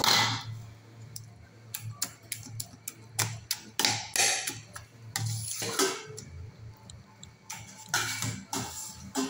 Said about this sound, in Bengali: সুন্দর গরম বলে আমি চামচ দিয়ে করছি